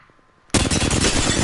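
Video game gunfire bursts in abruptly after a quiet moment, loud rapid automatic fire sustained close up, with no speech over it.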